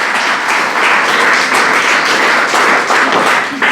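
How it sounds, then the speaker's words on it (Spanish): Loud, steady applause from a church congregation fills the space continuously, close and full, with no pauses throughout. "Dale un fuerte aplauso al Señor."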